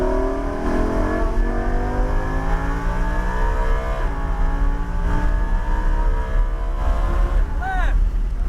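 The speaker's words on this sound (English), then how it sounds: "Let's roll that throttle on." A car engine climbs in pitch as the throttle is rolled on during a track driving session, with a loud, close, steady rising drone and another gear step near the end.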